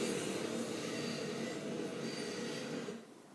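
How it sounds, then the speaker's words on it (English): A train rumbles past with a steady broadband roar and faint wheel squeal, holding loud and continuous before easing off near the end. "And I think that was maybe the train again"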